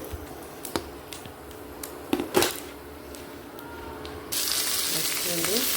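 Cumin and asafoetida spluttering in hot oil, with sharp scattered pops and crackles close by, then a steady loud sizzle takes over near the end.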